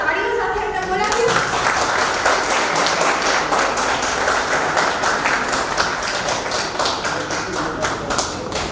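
Audience members clap to welcome a guest onto a small stage, sharp hand claps ringing out in a loose, fairly even rhythm under a voice talking.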